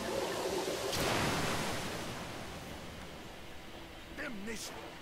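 Rushing river water in Metro: Last Light, a broad, steady wash of noise that surges early and then eases to a constant flowing hiss, with a faint brief voice near the end.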